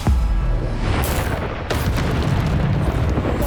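A Bombarda spell explosion in Hogwarts Legacy: loud, close booming blasts, two sharp bursts over a continuous roaring rumble.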